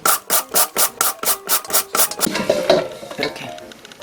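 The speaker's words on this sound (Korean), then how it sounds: "반 갈라서 그래서 채칼에 밀어주세요" A vegetable pushed quickly over a mandoline slicer while preparing kimchi seasoning, about a dozen brisk, evenly spaced rasping strokes, close and clear, fading into softer scraping and handling noises.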